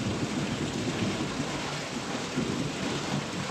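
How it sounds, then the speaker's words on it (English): Thunder rumbles over steady rain-like noise on a cloudy stretch of Argentina's Ruta de los Siete Lagos, a low, distant roll blending into the constant background. "That was thunder."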